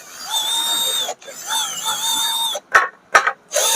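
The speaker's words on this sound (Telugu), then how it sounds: "ఆ మార్కింగ్ దగ్గర డ్రిల్లింగ్ మిషన్ తీసుకొని హోల్ చేస్తే సరిపోతుంది" An electric drill bores holes into a speaker cabinet with a loud, close motor whine that rises and dips in pitch. It runs in a long stretch, then cuts off and restarts in short bursts.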